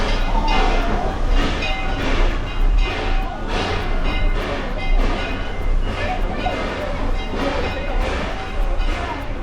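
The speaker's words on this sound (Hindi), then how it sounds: "जिस ट्रेन में हम अभी सफ़र करने वाले हैं ये Edmonton Yukon and Pacific railway की 1905 की आखिरी ट्रेन है।" A 1905 heritage train of the Edmonton Yukon and Pacific Railway rolls along at Fort Edmonton Park, its steady loud rumble and rhythmic rail clatter continuous throughout, with a voice talking over it.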